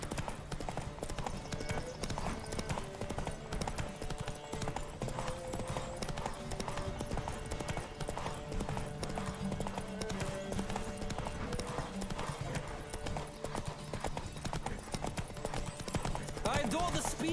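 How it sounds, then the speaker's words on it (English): Horses gallop in The Witcher 3 video game, a fast, continuous clip-clop of hooves throughout, with a player talking over it. "Riders, ready!"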